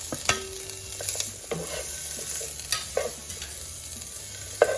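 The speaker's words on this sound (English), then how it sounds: "Once the clarified butter melts and the pan is hot, go ahead and add your bitter melon slices" Bitter melon slices fry in hot clarified butter, a steady close sizzle broken by sharp clicks and scrapes of a utensil stirring in the pan, with no voices.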